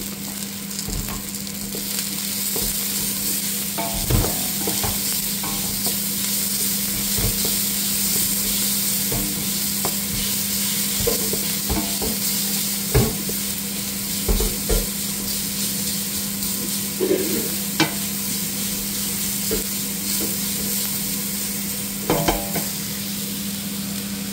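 Garlic sautéing in a pan for a Filipino chicken sopas, a steady close frying sizzle with stirring scrapes and occasional clicks of a utensil against the pan throughout.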